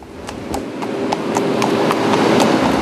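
A horse's hooves clip-clop on a city street in Brussels, a close, brisk and regular run of hard strikes over a steady background of traffic and street hum.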